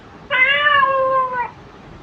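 A single cat meow, one clear, steady, drawn-out call about a second long, close and alone.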